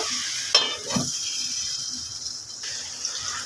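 Taro stolons (lota) with dried fish get stirred in a pan, a couple of scraping spatula strokes near the start followed by a steady soft sizzle over low heat.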